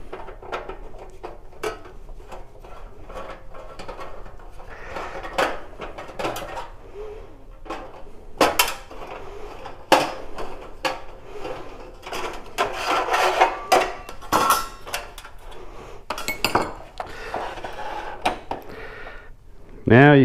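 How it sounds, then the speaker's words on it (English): Screws and a metal plate being removed from a Mr. Buddy gas heater, close clicks, scrapes and metallic clatter in irregular bursts under someone talking. "we're going to remove these two screws and this plate should come out."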